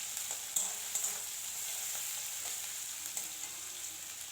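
Prawns sizzle steadily in a hot pan with onion, garlic and green chili, a continuous close frying hiss with a few crackles and pops and no talking.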